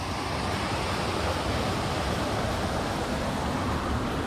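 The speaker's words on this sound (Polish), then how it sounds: "Znajduje się tutaj tuż przy, o, przy tamie, którą wypływa woda z tego zalewu Czepilówka." Water flowing out over a dam at the Czepilówka reservoir in the Knyszyń Forest, a steady, unbroken broadband rush like close surf or a small waterfall, loud and constant with no voices.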